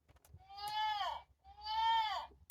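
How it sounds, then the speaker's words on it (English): A deer call played from a button on a children's 50-button farm sound book: two drawn-out, harmonic bleating cries in succession, each falling in pitch at its end, fairly clear against a faint background. "I think I like the sound of the deer."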